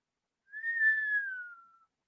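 A person whistles in imitation of the pombero, a creature of Guaraní folklore: one clean, sustained whistle of about a second that rises slightly and then glides down, heard alone in silence.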